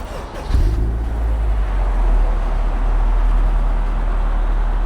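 A Mazda Miata with a swapped-in Honda K20A engine and aftermarket header, its exhaust rumbling deep and steady inside a moving car, loud and continuous after a brief swell, with no talk over it.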